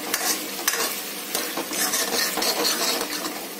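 Masala for dal makhani sizzles and fries in a pan while being stirred, with repeated scraping strokes and a steady crackle, close and alone without talk.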